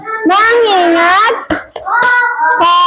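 Children in a classroom chant a short focus cadence in unison, marked by a few sharp hand claps that land between the sung phrases, close and loud.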